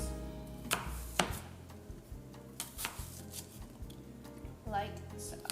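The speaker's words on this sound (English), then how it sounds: "we're just going to take it and cut down first, and then line them up and go this way and cut across" Knife slicing an apple on a cutting board, a series of crisp close chops in irregular rhythm under a person talking.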